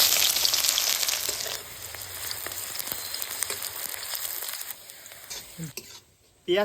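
Chopped onion with cinnamon and cardamom hits hot mustard oil in a pan, bursting into a loud, bright hiss that gradually settles and drops away to near quiet at the end.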